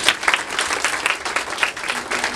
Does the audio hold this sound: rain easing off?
no